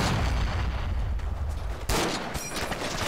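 Sustained gunfire from a German MG42 machine gun in the World War II shooter Forgotten Hope 2, loud and dense throughout, with a sharper burst near the end.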